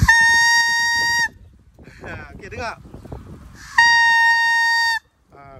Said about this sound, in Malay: mak aku akan ambil pelepah kelapa, dia gulung-gulung dan dia buatkan trompet untuk aku